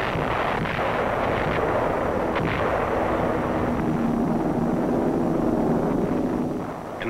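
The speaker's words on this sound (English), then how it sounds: "the destroyers and cruisers move in to join the air attack with a heavy bombardment" US Navy destroyers and cruisers fire a heavy naval bombardment in 1945, heard as a continuous rumbling roar of gunfire and blasts with dense low-end noise and no clear gaps.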